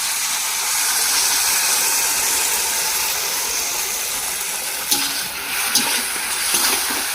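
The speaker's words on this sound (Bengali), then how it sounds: "এবার মিক্সিতে পেস্ট করা সমস্ত মশলাগুলো দিয়ে দিচ্ছি" Ground spice paste tipped into a pan of lightly browned onions for a chicken curry cooked with mutton fat, giving a steady loud sizzle with a few sharp spits and crackles near the end.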